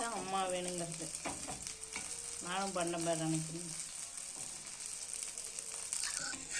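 Five tomato sauce and cheese cutlets fry in a pan with a steady, close sizzle. A voice talks over it during the first half, and the sizzle then continues alone.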